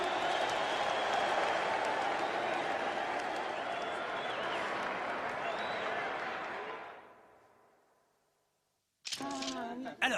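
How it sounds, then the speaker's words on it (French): A boxing crowd applauds the new heavyweight world champion, Sonny Liston, with sustained, roaring clapping and cheering for about seven seconds before it fades to silence, followed by a short burst of voices. "Et on applaudit le nouveau champion du monde poids lourd"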